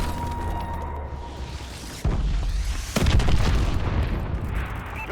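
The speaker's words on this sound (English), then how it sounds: "Friendly missile strikes inbound." Missile strikes landing in the video game Call of Duty: Advanced Warfare: two heavy booming explosions, one at two seconds and a bigger one at three seconds, each followed by a rumbling roar and debris.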